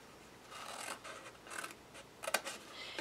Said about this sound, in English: we're going to cut up here, and we're going to trim off this corner.